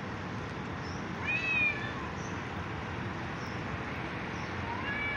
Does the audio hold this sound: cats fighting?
yes